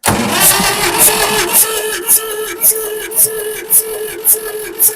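A 1962 Massey-Ferguson tractor engine straining at full throttle, its running sound broken by regular sharp bursts about every half second, loud and close.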